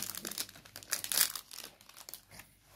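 Paper crumples and tears in quick, crackling bursts during a prize-opening challenge game, loud and close with no talking.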